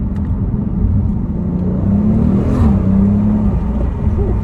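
A 2019 Audi RS5 Sportback with a 2.9 V6 TFSI engine pulls hard, its low rumbling engine note and whirring turbo rising steadily and loud throughout, with no voices.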